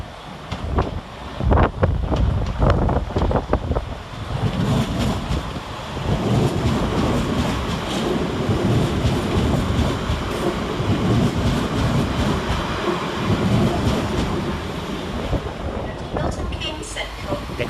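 Class 350 electric unit 350-231 on a London Northwestern Railway service pulling into Crewe station, a loud low rumble and rolling clatter of wheels close by, heavy wind buffeting the microphone, the roar easing slightly toward the end.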